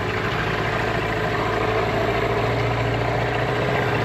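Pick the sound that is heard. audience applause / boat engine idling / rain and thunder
boat engine idling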